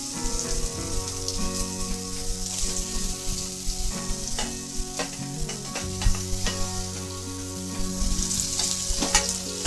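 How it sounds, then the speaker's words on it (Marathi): Potato slices sauté in a pan with mustard seeds and cumin for Maharashtrian poha, a steady close sizzle with frequent stirring scrapes and clinks of a spoon, no voices. "बटाटे आपण चांगले लाल रंग होईपर्यंत परतून घेऊया।"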